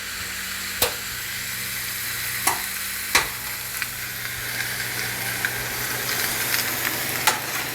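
Sausage and ground beef sizzle steadily as they brown for homemade chili, a constant frying hiss with a few sharp clicks of a utensil against the pan.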